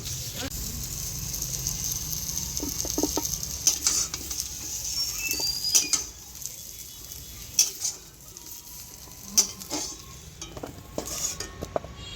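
Fried katla fish lifted out of a pan, with a low background frying sizzle, several sharp metallic clicks and scrapes of a spatula against the pan, and a brief voice in the background.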